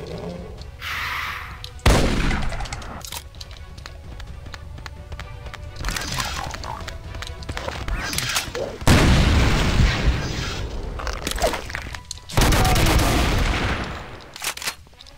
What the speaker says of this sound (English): I didn't realize it was the rapid chain gun.